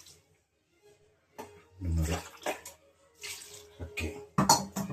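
Water from a glass is poured into a cooking pot in two bursts of splashing, with clinks of the vessel between them and a brief voice under the noise.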